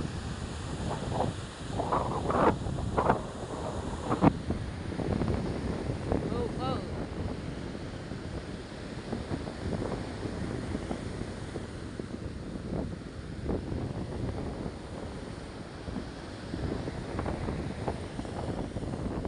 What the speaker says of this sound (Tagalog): Lakas pa ng hangin, lakas pa ng kalampag ng alon.